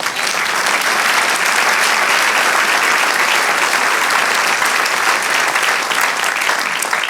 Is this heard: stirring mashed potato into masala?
no